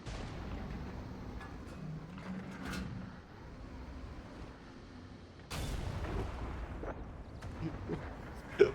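A heavy tank cannon booms in World of Tanks, one sharp blast near the middle and a loud report toward the end, each with a rumbling decay over engine drone and muffled battle noise, moderately loud with no talk.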